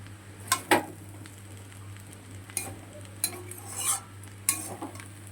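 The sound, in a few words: stirring chow mein in a pan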